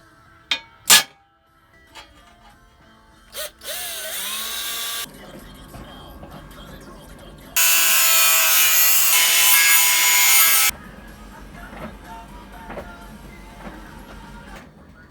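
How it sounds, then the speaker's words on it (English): Steel stock being cut for a bracket during a Kawasaki Ninja ZX9R rebuild, in two loud sustained bursts of sawing or grinding separated by lighter rubbing and clanks in a workshop, with no talking. "So I'm going to cut some steel out and then get this fitted."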